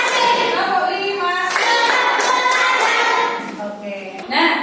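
Classroom pupils clap their hands in a counted rhythm, a run of sharp close claps mixed with children's chanting voices and talk.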